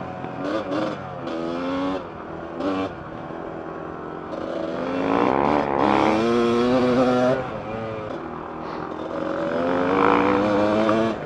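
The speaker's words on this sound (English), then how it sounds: "Man, that Husky sounds rowdy." A Husqvarna dirt bike with an FMF aftermarket exhaust revs and bogs with a raspy, throaty exhaust note, rising and falling in pitch as it rides past nearby.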